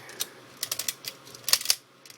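The wind-up crank mechanism of a DX GoZyuJin toy gives off rapid, dry ratcheting clicks in short, irregular clusters, close and crisp over a quiet background.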